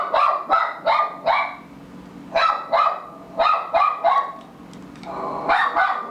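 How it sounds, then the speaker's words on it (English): A pet dog named Danny barks in quick, loud, nearby runs of two or three, with pauses between the runs, then gives a longer whining yelp at the end. "Sorry for the barking."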